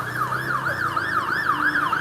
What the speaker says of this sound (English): Do you hear the variation on that siren?